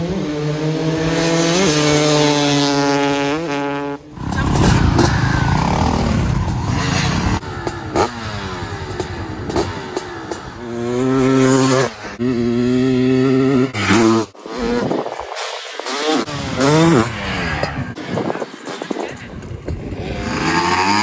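A small motorcycle engine revs repeatedly, rising and falling in pitch through several loud, close throttle blips with brief drops to idle, and voices are heard only faintly.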